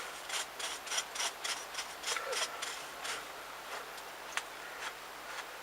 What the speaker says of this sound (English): give it a good scrub. I'm using an old brush, just to get in all those little nooks and crannies